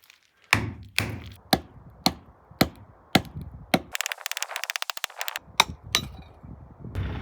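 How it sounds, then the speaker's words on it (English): A series of sharp metallic hammer strikes on a well pump pipe sleeve, roughly one per half second, then a quicker flurry of lighter taps before the heavy blows resume. Close and loud. "It looks like it will if I hammer out the sleeve."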